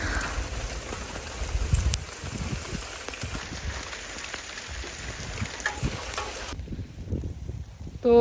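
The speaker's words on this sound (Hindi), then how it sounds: "बारिश तो अपनी मौज से लगी हुई है" Steady rain falls outside a mud house during the first rain of summer, a dense, continuous patter with light wind noise, then it drops suddenly to a quieter, muffled hiss near the end.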